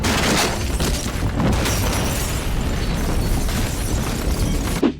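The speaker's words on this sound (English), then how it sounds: "we see that Cooper survived the explosion" A loud, sustained gas explosion roars with heavy rumbling and crackling bursts, ending with a sharp cutoff.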